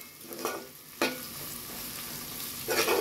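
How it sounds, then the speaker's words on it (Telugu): Onions fry in a pan for a baby shark bhurji, a constant faint sizzle broken by three short stirring scrapes, with no talking. "ఉల్లిపాయలు మనకు వేగిపోయాయండి, ఇలా బాగా దోరగా వేగేంతవరకు వేయించుకోవాలి"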